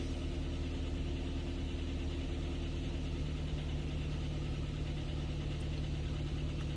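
A Kia Ceed with fault code P0172 idles steadily up close, its low, even engine rumble carrying a slight stumble throughout, with no voices.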